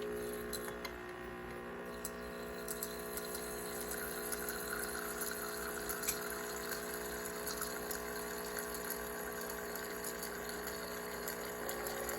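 A steady mechanical pump hum as a portable electric espresso machine dispenses hot water, continuous and fairly loud, with faint ticking clicks throughout and no talking.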